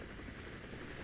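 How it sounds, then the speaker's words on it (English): Scout helicopters fly through a battle in the war game Armored Brigade, a steady, dense rotor drone held at moderate volume without a break for about a second. "Here comes the scout choppers."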